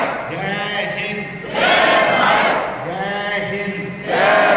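A large crowd at a national security rally in India shouts a patriotic call-and-response slogan in unison, with two loud surges of massed voices separated by a leader's call.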